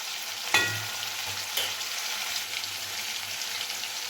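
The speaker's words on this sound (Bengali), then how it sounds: "খুব ভালোভাবে এগুলো সব ভেজে নেব" Ground onion and garlic paste fries in hot oil with a steady, close hiss. Two sharper bursts near the start suggest the paste hitting the pan or being stirred.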